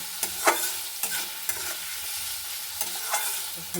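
Soft, close sizzling in a pan while making fried rice, with a spatula scraping and clacking at irregular intervals as the lightly salted food is stirred; no voices.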